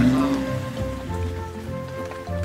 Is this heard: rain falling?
yes